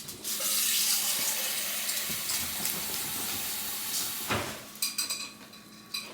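Water runs from a kitchen tap while a jar and a can are rinsed out: a steady, close hissing stream, then a few splashes and clinks near the end.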